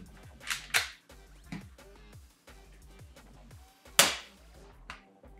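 Sharp shots from a Glock G17 spring airsoft pistol firing 0.20 g BBs snap out one at a time, two close together early and another later, each a crisp crack over a faint steady background hum.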